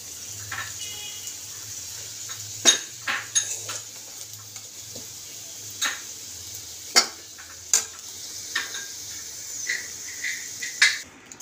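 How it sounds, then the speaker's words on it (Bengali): A metal spatula clinks and scrapes against a pan as fried potatoes are lifted out, with sharp irregular knocks over a low steady hum and a faint sizzle in the background. "এই যে আলুগুলো ভাজা হয়ে গেছে। আলুগুলো আমি বের করে নিই"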